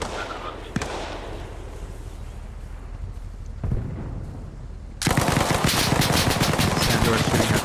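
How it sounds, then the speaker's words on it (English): Video game gunfire cracks out as a couple of isolated shots, then breaks into a loud, continuous automatic burst that fills the last few seconds. "Sandor is shooting at Twist"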